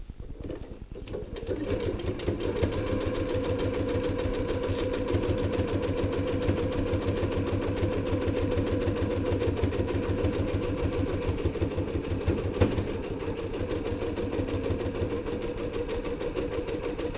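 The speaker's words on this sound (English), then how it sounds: "Same thing, I'm going to stitch all the way down that side." A sewing machine runs a continuous stitching pass down the side seam of a tote bag, its needle chattering in a fast, even mechanical rhythm close up, with a brief pause near the start.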